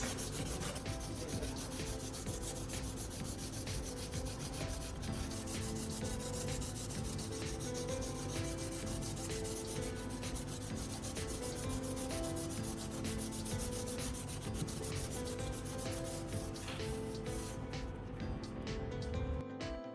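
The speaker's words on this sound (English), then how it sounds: "Then moved to a finer grit for an incredibly smooth and polished surface." Sandpaper of a finer grit rubs steadily over a PVC pipe knife handle, a continuous close scratchy rasping with a quick back-and-forth rhythm that runs throughout without talk.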